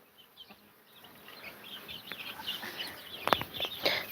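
Hens cluck faintly and sporadically in an outdoor yard, with soft scattered chirps and a slightly louder burst near the end.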